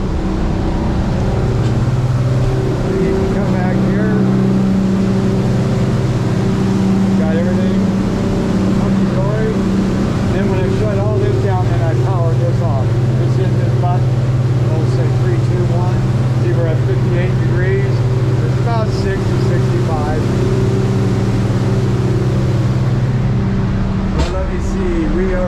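A motorboat engine drones steadily while the boat cruises on autopilot on a river, a continuous loud hum with tonal whine and rushing water, and someone talks over it.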